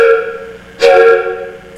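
A dinky train's motor whistle sounds as a steady, close tonal note that swells sharply louder partway through, holds, then eases off.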